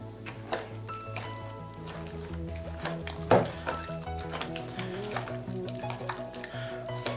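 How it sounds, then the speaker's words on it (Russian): Liver mince batter with salt is mixed by hand for a liver cake, giving a steady, soft, wet squishing and stirring that runs throughout with no talk. "Буду мешать рукой."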